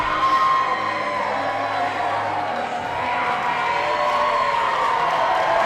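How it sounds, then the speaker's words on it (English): A boxing video game arena crowd cheers and roars in a steady, dense wash of noise that holds throughout, with shouts and whoops blending into the din. "Crowd getting behind their man the last time tonight."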